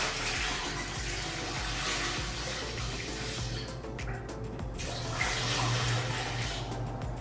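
Room temperature water pours steadily into a canner, a continuous broadband splashing rush that fills the space for several seconds with brief dips in intensity, close and fairly loud with no talking over it.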